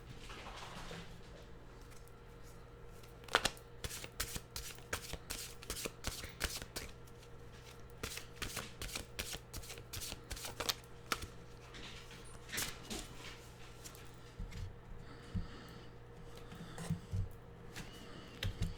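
A deck of oracle cards is shuffled by hand in a quiet room, with repeated quick riffling and soft slapping bursts that run steadily throughout and no talking.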